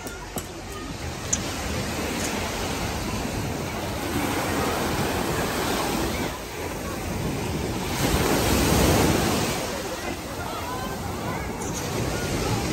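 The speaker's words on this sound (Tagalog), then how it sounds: "Ito yung simpleng dagat sa amin. Ito dagat." Sea waves wash steadily onto a beach, a broad continuous roar with gusts of wind buffeting the microphone and a louder surge of surf partway through.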